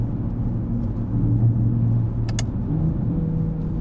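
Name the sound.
Porsche Panamera 971 engine in Sport Plus mode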